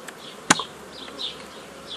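Honey bees buzz around a hive in an apiary, thin high whines of individual bees passing near the microphone, with a sharp click partway through.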